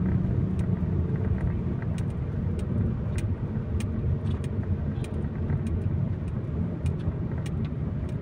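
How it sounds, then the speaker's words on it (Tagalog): Morning road traffic at the Quezon Avenue circle, a dense continuous rumble of passing cars and engines with scattered sharp clicks, loud and steady without talk. "yung traffic ngayong umaga"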